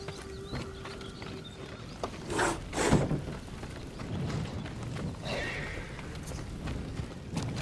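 A horse whinnies amid clopping hooves and scattered background clatter in the video game Ghost of Tsushima, with a second rising neigh partway through; no speech.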